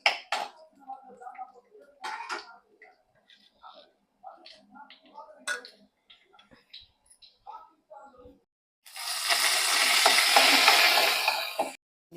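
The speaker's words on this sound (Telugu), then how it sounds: "దాని గిన్నెలో తీసుకొని తాలింపు పెడతాను" Tempering for a peanut and coconut chutney hits hot oil in a pan, a loud, close sizzle of about three seconds near the end, after quieter talking and kitchen clatter.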